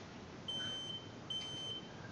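Fire alarm going off in the DDLC visual novel mod: two sustained high-pitched electronic tones, each lasting about half a second, separated by a short gap, heard over low background hum.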